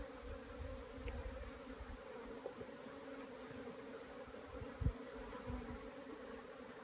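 Honeybees buzz at an open hive during an inspection, a soft continuous drone with a few faint knocks and no talking.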